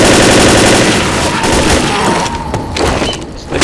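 Dense, continuous gunfire from Left 4 Dead co-op play, rapid overlapping shots and booms filling the whole stretch at close, loud level with no talk over it.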